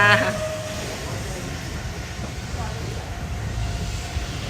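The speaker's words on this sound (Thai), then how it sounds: "เราจะไปรถไฟขบวนนี้นะคะ มาแล้วค่ะ" A train pulls into a station in Japan with a steady low rumble and a faint high brake squeal near the start, while someone talks over it.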